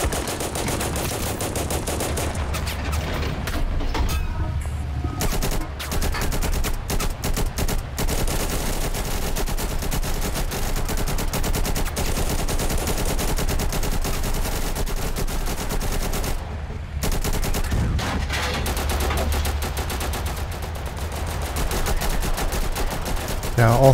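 Vehicle-mounted turret gunfire in the video game Total Conflict: Resistance, fired as loud continuous automatic bursts with a few short pauses, over a dense backdrop of battle noise.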